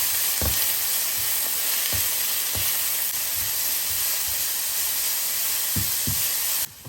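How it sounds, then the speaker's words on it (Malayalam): Vegetables sautéing with salt for chicken noodles, a loud, close, steady frying hiss with soft periodic stirring knocks, cutting off abruptly at the end. "ഇതിലേക്ക് ആവശ്യമായിട്ടുള്ള കുറച്ച് ഉപ്പും കൂടെ ചേർത്ത് നമ്മൾക്കിതൊന്ന് ചെറുതായിട്ടൊന്ന് വാട്ടിയെടുക്കാം"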